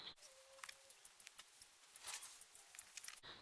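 Scissors snipping through a sock, cutting off its bottom part into small pieces: a run of quick, faint, crisp clicks and snips in a quiet room, close to the mic.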